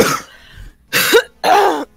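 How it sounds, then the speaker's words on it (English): Dry, hacking coughs in a quick run of bursts from one close person, with short pauses between the harsh rasping fits and no speech. "I'm sorry if I'm coughing a lot."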